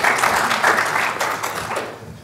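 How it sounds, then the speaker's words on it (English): Conference audience giving a round of applause, with close, dense hand-clapping that is strong at first and thins out toward the end of the clip. "Can we just have a round of applause"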